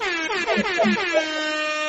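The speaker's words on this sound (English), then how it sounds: "I'm gonna give you an air horn while you clear your throat" A single loud air horn sound effect blares for almost two seconds, its pitch wobbling at first and then holding steady.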